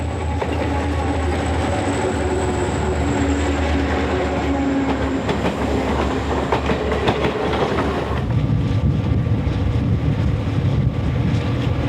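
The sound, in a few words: Algoma Central northbound tour train passing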